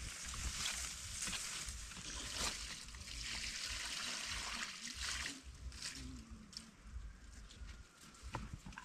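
Matoke bananas washed by hand in water in an African village, heard as continuous close splashing, sloshing and trickling with occasional knocks, and no talk.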